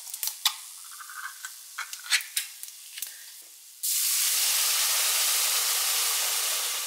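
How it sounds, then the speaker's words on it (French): Spices toasting in a hot pan make light, scattered crackles and pops at first, then a loud, steady broadband hiss of frying takes over abruptly and holds to the end. "On fait griller les épices pendant à peu près une minute"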